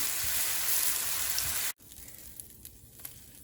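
Apples and raisins sizzle in a frying pan, a fairly loud, even hiss for the first half that cuts off abruptly, leaving quieter scattered clinks and faint stirring sounds.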